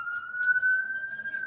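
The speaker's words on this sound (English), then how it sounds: "Sorry about the sirens." A single wailing police siren passes outside on a town street, a steady sustained tone held at moderate distance, with faint background noise beneath it.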